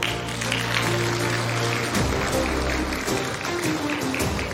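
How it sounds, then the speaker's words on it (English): Audience applause at a live presidential debate, a dense continuous wash of clapping filling the whole stretch, over a low droning tone that fades partway through. "A big round of applause for yourselves"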